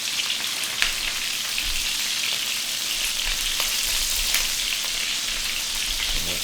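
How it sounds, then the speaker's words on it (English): Duck breast seared in a hot pan after being turned over, a steady, dense sizzle with occasional sharper pops throughout. "we can flip it over and get a nice sear on the other side"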